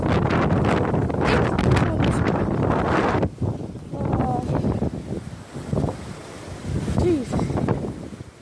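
Strong gusting wind during Hurricane Michael buffets the microphone in heavy roaring bursts, then drops to a lighter rush with intermittent gusts; no clear speech over it.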